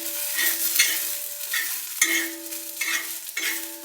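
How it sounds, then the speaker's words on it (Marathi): Red chilies, coriander seeds and stone flower roast in a little oil in a pan while being stirred, producing a close, steady sizzle crossed by scraping stirring strokes roughly every second, with no talking. "थोडंसं तेल टाकून भाजून घ्यायच्यात आपल्याला मिरच्या. त्या मिरच्यांमध्येच आपल्याला धने आणि दगडफूल घेतलेले फक्त ते भाजून घ्यायचं"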